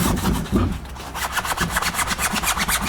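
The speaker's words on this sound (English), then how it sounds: "I need to connect that to a drill, and then we'll just kind of go with this" Rapid rhythmic scraping and grinding of an abrasive attachment spun by a drill against a car wheel with curb rash, steady and fairly close, with a low motor hum underneath.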